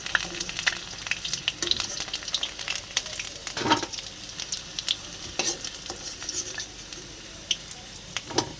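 Meat dropped into a pan of frying potatoes, a soft steady sizzle with scattered crackles and spatter pops, with one louder burst around the middle, close and moderately quiet, no talk.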